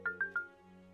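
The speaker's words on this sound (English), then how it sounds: "Hold on. My phone." A mobile phone rings in the video game Broken Sword 5, three quick electronic trills in a row over a steady low ambient music bed, fairly quiet.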